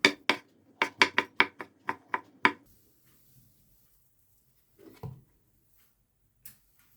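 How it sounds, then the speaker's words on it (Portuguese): A knife chops mushrooms very finely on a board in a quick run of about ten sharp taps, then goes quiet apart from a couple of faint knocks. "É só picar bem pequeno."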